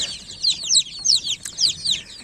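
Hens and a rooster cluck in a farmyard coop, giving a dense run of rising, chattering calls in pulsing waves, close and fairly loud, with no talk.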